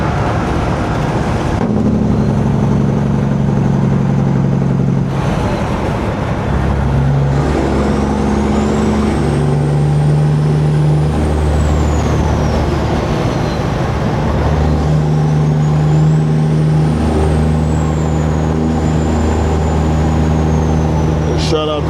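Heavy truck rolling through city traffic near a highway interchange, a steady low engine drone with passing vehicles and hissing air brakes.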